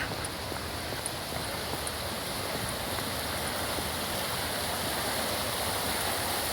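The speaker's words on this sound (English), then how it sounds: "the creek is flowing pretty good" A creek runs full after a night of rain, a steady broadband rush of flowing water heard close and unbroken, with no voices.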